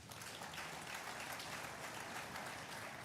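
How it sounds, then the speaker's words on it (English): Faint, distant audience clapping at a Nigerian national-day event, a continuous even patter of many hands heard at low level throughout. "I think we can clap for ourselves."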